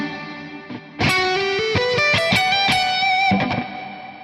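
Electric guitar played through a duller reverb setting on a PolyChrome DSP HyperRig, a run of distorted notes climbing in pitch with picked attacks and a sustained bent note, trailing off into a soft tail.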